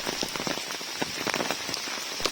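Heavy monsoon rain pours steadily onto surfaces at a hill station in Matheran, a dense, continuous patter with many close individual drops striking throughout, loud and unbroken with no voices.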